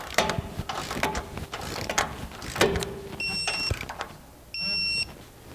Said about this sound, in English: Torque those down to 65 foot-pounds.